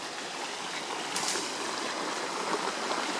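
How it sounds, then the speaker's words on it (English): Stream water rushing near a walking trail toward a natural pool in Isalo, a steady broadband flowing hiss, close and fairly loud, with faint footsteps or movement mixed in. "Hear the water?"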